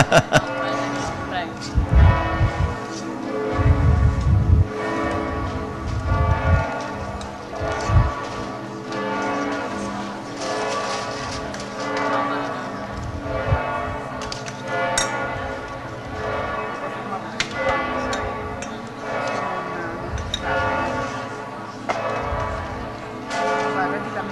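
Church bells ring in San Daniele, Friuli, Italy, during a food festival, in a steady, rolling peal that fills the whole stretch, with people talking underneath.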